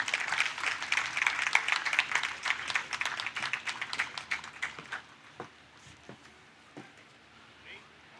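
Applause at a literature festival closing ceremony as a speaker is welcomed to the stage, a dense burst of clapping that thins into scattered claps and dies away.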